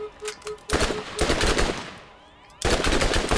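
Loud rapid gunfire bursts in the Borderlands shooter video game, two long volleys split by a short lull, sustained automatic-style firing up close.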